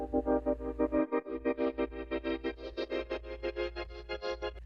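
A synthetic blip tone processed with crystallizer, OTT, gain, tremolator, Kickstart and filter effects pulses in a steady rhythmic tremolo, bright and buzzy with shimmering processed overtones over a low hum, heard alone.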